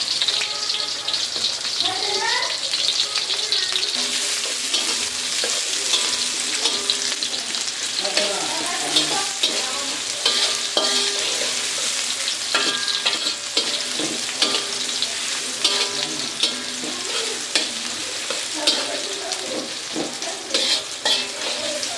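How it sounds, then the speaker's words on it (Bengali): Chopped onion and garlic frying in hot oil in a wok, a continuous loud sizzle with frequent scraping stir strokes throughout; no one speaks. "পেঁয়াজ রসুন সুন্দর করে ভেজে নেবেন।"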